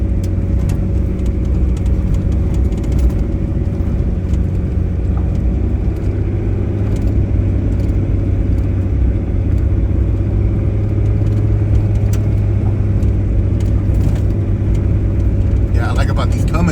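Truck engine towing a loaded dumpster trailer on 16-ply rear tires, a steady low rumble and drone that holds close and loud throughout, with no talk over it.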